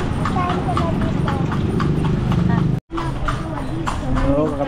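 Horse hooves clip-clop steadily on a street in Vigan, Philippines, a quick regular rhythm close by, with people talking over it and a brief dropout midway.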